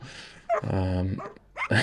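A small, powerful dog giving a few sharp barks and a longer drawn-out yelping whine between them, close and loud, no human speech.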